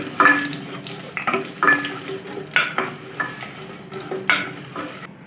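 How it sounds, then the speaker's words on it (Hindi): Fennel, nigella and fenugreek seeds fry in hot oil with about three whole items, stirred in a regular rhythm: bursts of scraping and crackle repeat roughly every second over a steady low sizzle, with no talking. "सारी चीज़ों को अच्छे से फ्राई कर लेंगे।"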